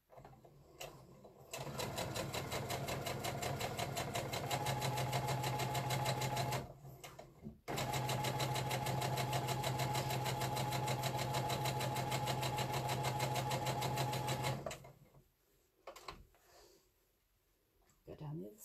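A sewing machine runs steadily while stitching half-square triangle quilt pieces along a quarter-inch guide, a fast even hum with one short pause near the middle, stopping toward the end as soft handling noises follow.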